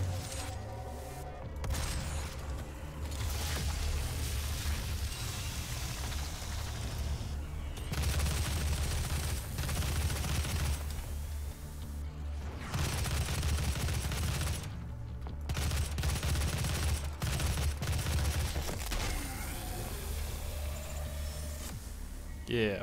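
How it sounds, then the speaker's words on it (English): Shotgun blasts in the video game DOOM, repeated heavy booming shots in bursts amid loud game action and music, with a person talking over the gameplay. "The old shotgun."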